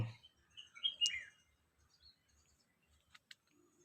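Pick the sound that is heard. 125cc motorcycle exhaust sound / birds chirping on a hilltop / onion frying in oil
birds chirping on a hilltop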